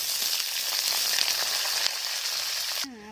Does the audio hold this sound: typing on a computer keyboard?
no